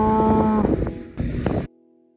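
Cattle on a ranch near Sidney, Montana moo loudly and close by: one long, sustained low call, then a second shorter bellow, before falling to quiet.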